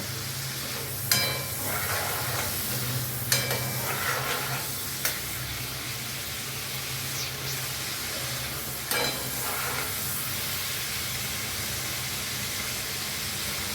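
Diced potatoes frying in a wok over raised gas flame, a steady close sizzle running throughout with occasional scraping stirs and clinks of a spatula.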